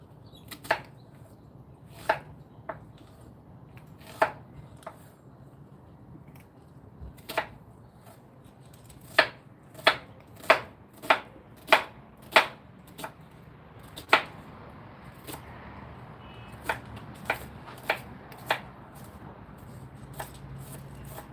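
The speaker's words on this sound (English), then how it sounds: "We need to chop some onions super fine here." Onions being chopped very finely on a board, a series of crisp knife taps at an irregular pace that bunch into a quicker run midway, close and clear against a quiet background.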